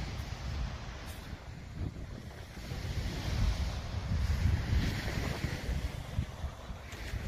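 Sea waves wash below the cliff at Orłowo in Sopot on the Gulf of Gdańsk, a steady low rumbling surf mixed with gusting wind buffeting the microphone.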